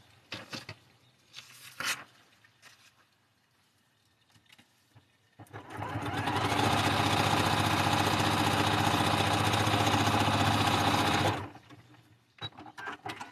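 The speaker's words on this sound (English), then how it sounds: "I'm just going to hold this one as I go over here to the sewing machine." A sewing machine runs in one long steady burst of rapid mechanical stitching, loud and close, preceded and followed by quiet handling noises.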